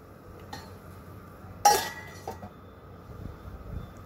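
A lid goes onto a cooking pot of broccoli with one sharp metallic clank, followed by a few softer clinks in an otherwise quiet kitchen.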